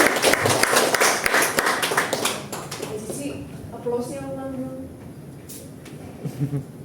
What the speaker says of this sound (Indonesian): Kita berikan aplaus Bapak Ibu.